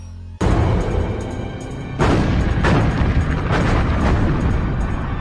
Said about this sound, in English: American shell fire has hammered away at these defenses, softening them up for an invasion